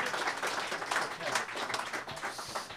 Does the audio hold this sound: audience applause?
yes